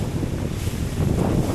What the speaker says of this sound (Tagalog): Butit hangin lang po dito.